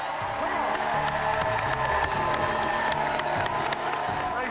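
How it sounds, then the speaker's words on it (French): A studio audience at a cooking competition finale claps and cheers for two finalists, a busy crowd wash with whoops, overlapping talk and a few sharp claps. "on applaudit nos 2 finalistes"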